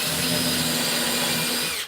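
A power drill bores through wood for a homemade tube sander, a loud steady whine and grind held for nearly two seconds before stopping abruptly.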